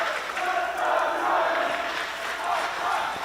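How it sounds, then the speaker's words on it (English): Rugby supporters at an under-18 sevens cup final in Asia chant together from the stands, a sustained roar of many voices rising and falling in waves with a few shouts on top. "Bit of a crowd chant off to start this match."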